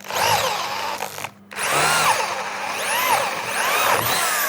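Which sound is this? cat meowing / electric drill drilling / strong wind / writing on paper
electric drill drilling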